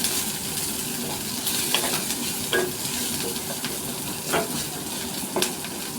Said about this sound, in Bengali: পেঁয়াজটা যখন ভালো করে ভাজা হয়ে যাবে তখন তার মধ্যে দিয়ে দেব রসুন কুচি